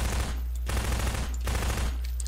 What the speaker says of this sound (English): you have a submachine gun. You can select it,